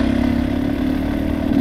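A motorcycle-like mid-sized engine revving steadily at close range, a continuous loud drone with a rough clattering edge throughout.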